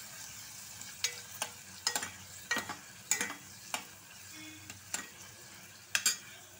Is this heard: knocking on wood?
no